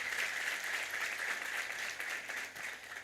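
Sustained audience applause at a sales motivation event, a steady dense wash of clapping for about three seconds, heard alone at moderate level without voices.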